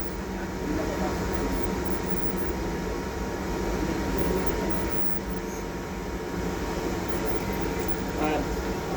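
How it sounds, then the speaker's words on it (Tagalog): An electric fan runs steadily, a dense, even whirring hum that continues without a break from start to finish. "Ayun, number 3 na electric fan."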